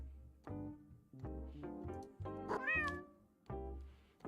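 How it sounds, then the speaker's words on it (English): A cat meowing repeatedly and insistently, a series of about six moderately loud, drawn-out meows close by, some rising in pitch. "Kitty."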